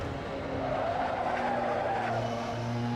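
A Lexus SC300 driven in a racing video game holds a steady engine drone as its tires skid and squeal through a corner, loud and continuous with no talking.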